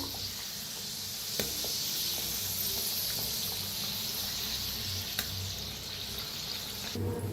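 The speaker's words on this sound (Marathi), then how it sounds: "तळून घेऊया" Kachori deep frying in hot oil gives a continuous, bubbling sizzle at moderate level. A few faint clinks of a utensil occur, and there is no speech.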